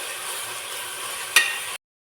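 Chopped onions with salt sauté in a pan for a Kerala-style egg roast, giving a steady close sizzle with one sharp clink of a spoon before it cuts off.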